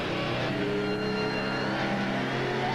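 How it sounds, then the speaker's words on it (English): A Miller Genuine Draft Rusty Wallace stock car engine roars at a high, steady pitch, a sustained loud racing drone with slight rising and falling revs and no voices. "Miller Genuine Draft Rusty Wallace stock car."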